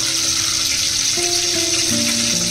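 Curry leaves hiss and sizzle in hot oil, a loud, steady, close frying crackle that runs unbroken throughout with no talking.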